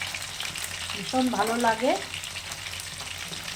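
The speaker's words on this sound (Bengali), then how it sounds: "দেখো পকোড়া ভাজা হয়ে গেছে" Chicken pakoras fry in hot oil with a steady, close sizzle, briefly overlaid by a voice speaking.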